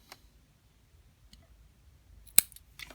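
Scissors snipping cotton wick for a Pharaoh RTA rebuildable atomizer, a few faint ticks followed by one sharp, close cut near the end and a lighter snip after it.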